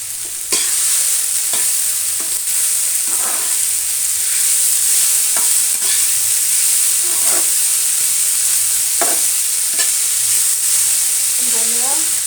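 Boiled, drained banana flower is stir-fried in a pan with mashed potato, producing a loud continuous sizzle and hiss, punctuated by periodic scrapes and knocks of the spatula.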